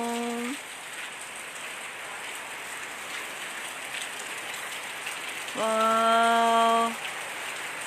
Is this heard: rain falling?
yes